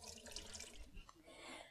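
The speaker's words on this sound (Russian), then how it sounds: "Воду сливаем в раковину." Water drained from glass canning jars of mint-flavoured cucumbers splashes steadily into a kitchen sink, a continuous close running-water pour with faint trickling near the end.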